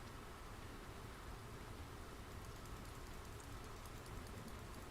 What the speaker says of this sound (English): Oh, the rain! The rain! It is absolutely bloody pissing it down now.